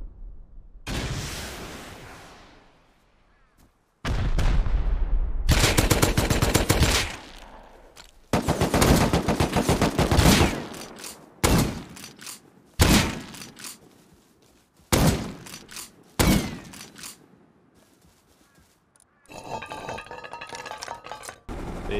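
Incendiary ammunition fired in the video game Rust: loud, close bursts of rapid gunfire and sharp single shots separated by brief silences, with clinking and ringing tails between volleys.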